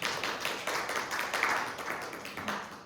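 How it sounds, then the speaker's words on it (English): An audience at a mainframe open-education talk claps in a brisk, uneven patter of many hands, moderately loud and steady for a few seconds without speech. "Let's clap for Open Mainframe Project."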